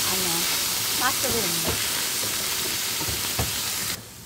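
Garlic and onion sautéing in a pan, with a steady close sizzle throughout, a few stirring clinks, and some faint voice-like tones early on before the sizzle drops off near the end.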